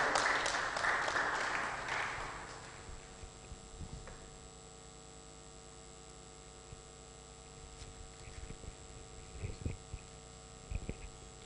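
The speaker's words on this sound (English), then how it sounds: "Please welcome with a round of applause." Attendees at a national metrology workshop kick-off clap to welcome a speaker, the applause loud for the first few seconds before fading into a steady electrical hum with faint scattered room noises.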